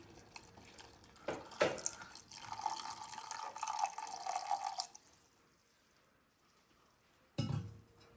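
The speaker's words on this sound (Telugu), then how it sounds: "సో ఇప్పుడు నేను పాలు పోసేసుకుంటున్నాను" Milk poured into a pot of boiling tea decoction made with tea leaves, a steady close liquid pour lasting a few seconds, followed by quiet and then a brief clatter near the end.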